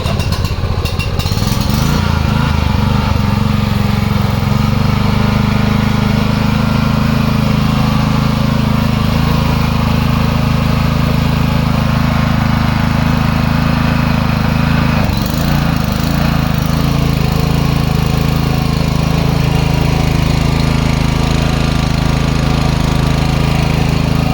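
A Zegor 4500 inverter generator starts with a brief sputter and then runs at a loud, steady, buzzing drone close by, its pitch shifting slightly mid-run, with no voices.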